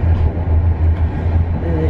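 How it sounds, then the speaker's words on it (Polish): Passenger train travelling to Olsztyn, Poland, giving a steady low rumble and rolling hum from inside the carriage, continuous and fairly loud throughout, with no distinct clicks standing out. "jadę w tej chwili pociągiem do Olsztyna"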